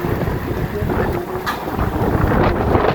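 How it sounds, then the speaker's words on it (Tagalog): Steady, dense roar of strong wind buffeting the microphone with heavy rain hissing throughout, loud and continuous. "Ang lakas na nga ng ulan, ang lakas pa ng hangin."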